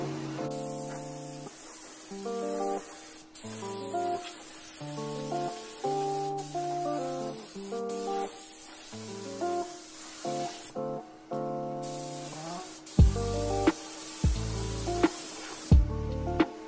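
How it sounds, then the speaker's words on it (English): A steady hiss of a spray gun painting a 2JZ car engine bay with color-changing paint runs throughout under background music, with a few brief louder bursts toward the end. "you guys will watch me spray this thing"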